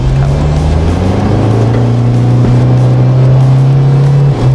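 A tuned Isuzu MU-X turbo SUV accelerating hard from about 50 km/h, loud steady engine drone from inside the cabin rising gradually in pitch for several seconds.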